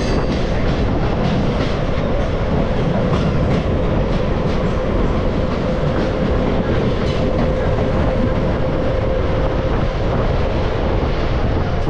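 A Kolkata–Balurghat train running, with a steady loud rumble and clatter of wheels on rails and a faint ongoing tone, recorded close by without a break.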